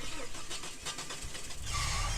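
A car engine in the farming game Landwirtschafts-Simulator 25 cranks with a few quick starter pulses, then catches and settles into a steady idle, fairly quiet and alone.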